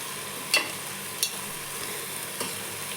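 Cauliflower, carrots and peas frying in oil for pav bhaji make a steady, close sizzle, broken by three sharp spatula stirs with metallic scrapes.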